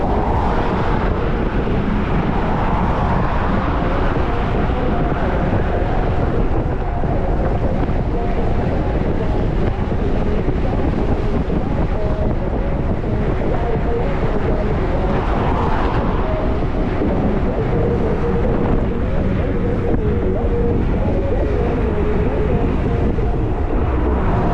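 Strong, constant wind roars and buffets loudly against the microphone while cycling along the coast from Adler to Sochi, masking nearly all other sound for the whole stretch.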